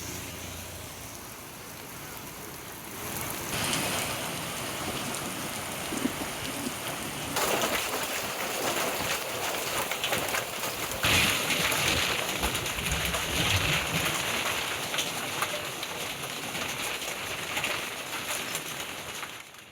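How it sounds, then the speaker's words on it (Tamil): Heavy rain with hail and strong wind lashes the Mettupalayam and Karamadai area of Coimbatore district, a dense, steady roar of downpour filling the whole stretch with surges in intensity and no voices. "பலத்த காற்றுடன் கூடிய கனமழை வெளுத்து வாங்கியது."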